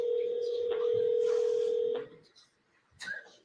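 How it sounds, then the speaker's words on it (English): Telephone keypad tones from a courtroom phone as someone dials, a steady tone held for about two seconds with brief breaks, then a short chirp near the end, heard over a faint background. "She's trying to dial something."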